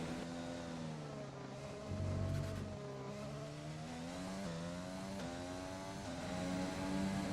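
An F1 race car engine on a flying qualifying lap in F1 2020, a loud, continuous high-revving whine that climbs and drops through gear changes, heard close from the cockpit.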